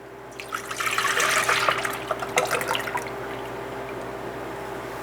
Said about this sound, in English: I am going to pour in my half a gallon of milk into my pan